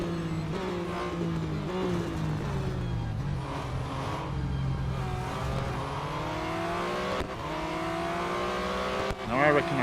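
Race car engine in the mobile racing game Real Racing 3 during a multi-lap race, a continuous loud engine whine whose pitch rises and falls through gear shifts, with other cars and a brief burst near the end, while a voice speaks over it.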